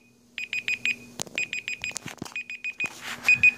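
A Google Pixel phone's timer alarm rings in quick repeated bursts of bright beeps, grouped in short rhythmic runs, with some handling noise and clicks between them.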